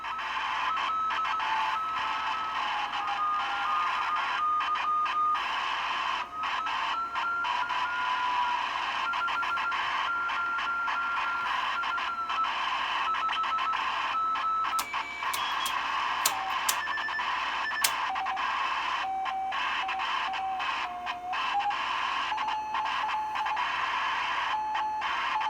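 A Collins AN/PRC-47 Vietnam War military field radio receiving with RIT adjusted, with a continuous hiss and static carrying wavering Morse-like tones that shift in pitch, steady and fairly loud, with no talking.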